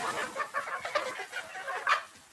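Hens in a farm chicken coop clucking in a busy, overlapping series of short calls, steady and fairly close, with no talking.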